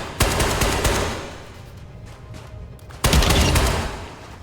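Gunfire from an SKS rifle in the Ghosts of Tabor VR game: two loud bursts of rapid shots, one at the start and another after a short lull, with echoing tails between them.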